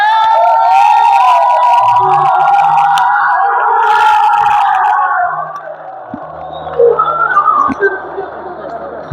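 A crowd celebrates the champion football team at a league final, with loud sustained whistling and cheering that gradually thins into scattered voices and shouts.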